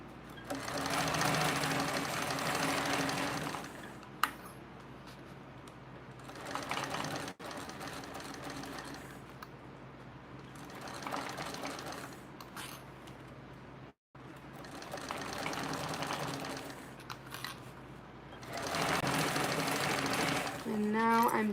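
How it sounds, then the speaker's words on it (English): Several close runs of a sewing machine stitching a seam at a 3/8-inch allowance, each burst a fast even whir lasting a few seconds, separated by short breaks. "And now I'm just sewing this at that 3/8 of an inch seam allowance."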